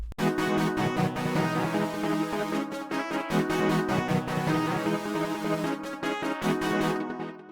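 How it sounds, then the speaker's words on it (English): A hip-hop beat melody built from one chord progression layered with many synth and instrument sounds plays rhythmically and dense for several bars, then cuts off, with no voices. "And now I'll play that full melody for you."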